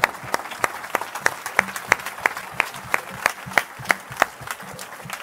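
Church audience clapping in unison during a French teaching, loud, regular rhythmic claps at a steady beat with a murmur of crowd underneath.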